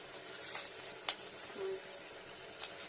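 Potato pieces fry gently in a small amount of hot oil in a pan, a faint steady sizzle with a few soft clinks and stirring scrapes, quiet and close.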